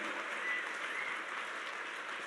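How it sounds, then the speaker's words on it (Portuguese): A church congregation applauds together in a steady, dense wash of clapping that holds at an even level for a couple of seconds, with no voices standing out above it. "Pode aplaudir Jesus, que é isso mesmo."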